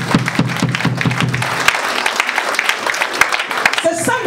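A church congregation at a harvest festival service in Paris claps and cheers for Jesus, with rapid rhythmic clapping at first that fades into a sustained crowd roar and voices.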